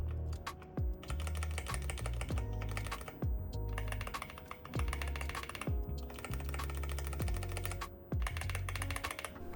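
Typing on a YUNZII AL68 mechanical keyboard fitted with milk switches, a steady run of close, clacky keystrokes in bursts with brief pauses, heard alone without talking.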